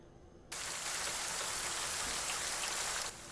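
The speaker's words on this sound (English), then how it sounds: "start to hear the noise" Heavy rain suddenly swells in as a dense, loud hiss, pouring steadily for a few seconds before dropping back to a quieter background.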